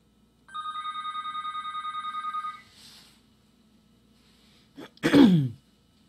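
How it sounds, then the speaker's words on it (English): A telephone rings in a quiet room with a rapid electronic trill that lasts about two seconds and then stops. Moments later someone clears their throat or sneezes. "the phone needs to stop ringing"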